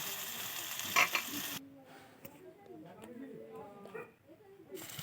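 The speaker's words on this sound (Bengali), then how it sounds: "পেঁয়াজটা দিয়ে একটু ভাজা ভাজা করে নেব" Chopped onion fries in a pan for a Bengali rui fish curry, a soft crackling sizzle with scraping stirs; a louder burst of sizzling early on settles into quieter, intermittent frying.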